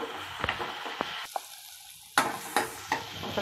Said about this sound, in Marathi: तो पण आपल्याला चांगला परतून घ्यायचा आहे